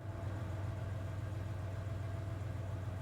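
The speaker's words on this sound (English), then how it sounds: "I hear the sound of an engine revving outside." A truck engine from the video game 428 Shibuya Scramble runs outside with a steady low rumble and hum, fairly faint and with no voices over it.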